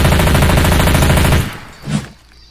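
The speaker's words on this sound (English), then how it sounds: "It's a machine gun." A machine gun in Left 4 Dead 2 fires a loud, rapid, continuous burst at close range, then cuts off, leaving a brief thud and fading quiet.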